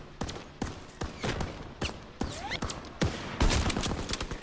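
Gunfire from the Call of Duty WW2 private beta, with sharp, separate shots landing in quick bursts across the whole stretch, close and punchy over a busy game backdrop.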